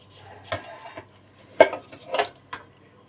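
A kitchen knife peels and cuts fresh ginger on a cutting board, with a few sparse, close scraping and tapping strikes spaced irregularly, quiet in between and no talking.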